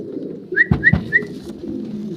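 German Modena pigeons give a few soft, low coos close by, two deeper pulses standing out, with brief high chirps mixed in over a steady low background hum.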